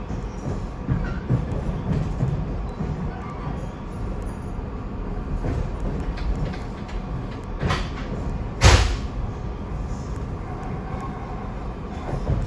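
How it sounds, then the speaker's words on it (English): A Norfolk Southern intermodal freight train passes alongside, heard from inside a moving passenger railcar as a steady rolling rumble, with one sharp loud clank near the middle. "we got a Norfolk Southern intermodal train here"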